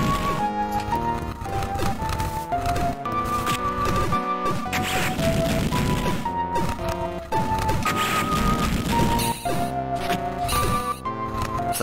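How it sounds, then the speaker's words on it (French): A game-over tune from the retro action game Beyond Oasis plays: a continuous, fairly loud electronic melody of stepping notes over busy accompaniment, with no talking. "Ça, c'est le bruit qui annonce le game over."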